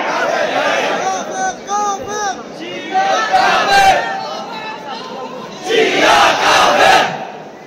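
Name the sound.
crowd chanting slogans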